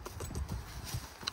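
Horses walk past on a ranch visit to see cattle, their hooves clip-clopping in a quick, uneven rhythm at close range over outdoor background noise, with no talking.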